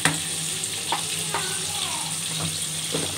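Thick kadhi simmers in a cooking pot with a steady close hiss and bubbling, broken by a few soft clinks and pops; no voices over it.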